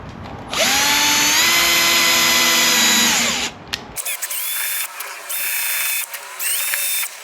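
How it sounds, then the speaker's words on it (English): Power drill boring a hole on a Can-Am Spyder RT motorcycle for an LED light, a loud steady high whine for about three seconds, then winding down into short intermittent bursts of drilling. "and I drill the hole."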